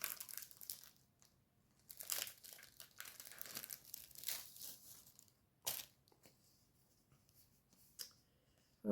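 Close, quiet crinkling and rustling of a sticker sheet with small cherry stickers being handled for a photo page, irregular crackly bursts and sharp peeling snaps separated by short pauses, with no talk.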